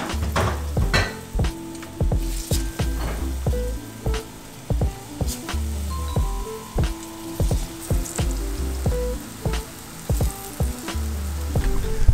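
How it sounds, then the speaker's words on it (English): Burro banana strips frying in a pan of hot oil, a steady sizzle broken by repeated clanks and scrapes of a utensil against the pan, close and fairly loud, with no voices. "slice it into strips, fry these up"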